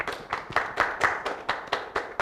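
Talk show studio audience clapping to welcome a guest on stage, a close, crisp burst of synchronized claps in a regular rhythm, about nine distinct beats.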